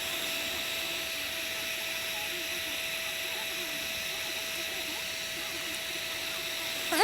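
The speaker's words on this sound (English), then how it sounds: "The old heat gun." A heat gun blows continuously during a frame-up assembly of a 1971 Honda CB350, a steady close whine and rush of air with a thin constant tone, holding even throughout before a small bump right at the end.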